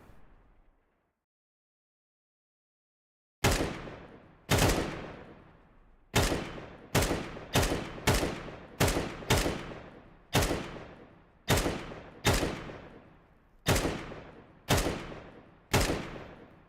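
Single gunshots from a Counter-Strike 2 weapon, about a dozen sharp cracks at uneven intervals after a brief quiet start, each loud and close with a short decaying tail, no talking.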